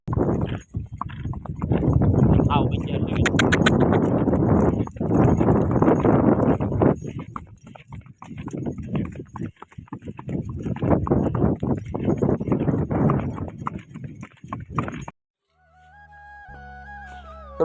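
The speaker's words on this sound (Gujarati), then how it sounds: "હવે જો આપણે બે ઘોડી લઈ અને નીકળી ગયા છે." Hooves of two Kathiawadi mares clip-clop steadily along a road, walking with a continuous rhythmic clatter amid wind and rustling noise, fairly close, before a brief musical tail at the end.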